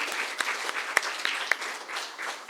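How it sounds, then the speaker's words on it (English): A small audience applauds after a children's book reading at a kids' literature event, with light, fairly sparse clapping and a few sharper individual claps standing out. "can we please have a round of applause"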